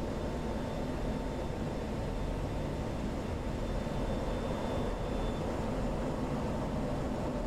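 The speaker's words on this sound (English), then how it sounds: "I'm going to leave the afterburner plugged in, try to pick up as much speed as I can" An F-16 jet with afterburner engaged in the DCS combat flight simulator gives a constant, fairly quiet, unbroken roar throughout, with no talk.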